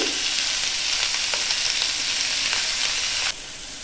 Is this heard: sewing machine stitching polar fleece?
no